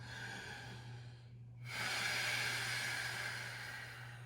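Pranayama breathing in a yin yoga class: a soft, close inhale followed by a longer, louder, hissing breath of air over a low steady hum, with no talking.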